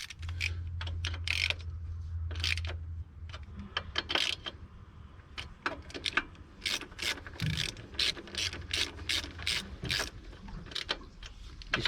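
Ratchet wrench turning bolts loose on a Briggs and Stratton ride-on mower, a run of quick close clicking strokes in bursts, with a low hum underneath.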